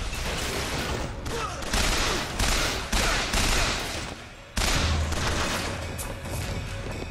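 A crank gun fires in BioShock Infinite: loud, rapid bursts of heavy automatic gunfire that come in several strong surges, with brief dips between them and a sudden loud restart partway through.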